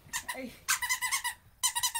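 Squeaky popcorn-shaped dog toys with smiley faces being squeezed, giving bursts of rapid, high-pitched squeaks in quick repeated pulses, close and fairly loud, in three short clusters.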